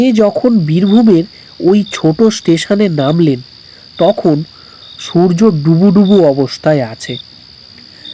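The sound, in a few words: crickets chirping, story sound effect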